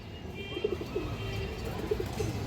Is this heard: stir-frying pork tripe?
no